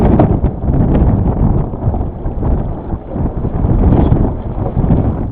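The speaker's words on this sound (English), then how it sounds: "It's now big gust coming through." Strong wind buffets the microphone aboard a Potter 15 sailboat in a continuous rough roar that swells and dips, loud and close, with no voices.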